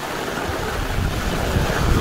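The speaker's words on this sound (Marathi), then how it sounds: "पाहू शकता जो सुसाट्याचा वारा" Strong monsoon wind buffets the microphone outdoors in Dapoli, a steady loud roar of gusting air with rumbling low-end buffeting and no speech.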